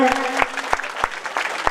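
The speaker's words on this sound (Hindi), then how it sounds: "इसके लिए जोरदार तालियां बजा करके इनका स्वागत करें" An audience at a Mahashivratri festival closing event in Gopalpura starts to clap. Sharp individual claps come at intervals under a voice that is still speaking, and they do not yet build into full applause.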